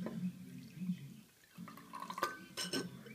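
Ice cube clinking in a glass of cold water, a few light glassy knocks and small watery movements close by, quiet overall with a short pause midway.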